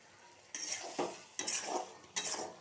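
Goat liver is stirred in a pan as it fries, with four distinct scraping strokes of a utensil against the metal over a faint sizzle. The sounds are fairly quiet and close, with no talking.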